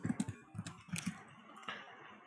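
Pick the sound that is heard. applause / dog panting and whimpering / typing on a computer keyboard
typing on a computer keyboard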